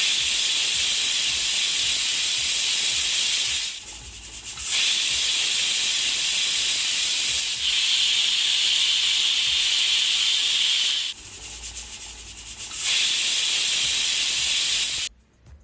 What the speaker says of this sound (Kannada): ಈಗ ವಿಜಲ್ ಬಂದಿದೆ,